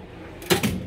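A drawer in a mechanic's toolbox slides open with a short metallic rumble and a second clack as it stops, close and brief after a quiet moment.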